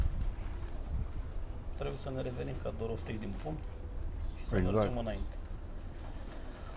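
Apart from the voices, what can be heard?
pigeons cooing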